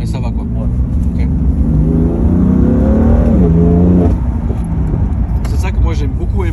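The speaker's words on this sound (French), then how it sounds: "Ce que j'ai beaucoup aimé dans le M4, c'est que vous avez cette espèce de brutalité au relâchement des gaz" A BMW M4 engine revs up with a rising growl, then the throttle is released and the note drops away, heard from inside the car over steady road noise while people talk.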